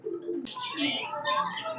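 Close cooing of a Pakistani high-flying pigeon, a soft throaty burble following a brief low murmur, heard alone over about two seconds.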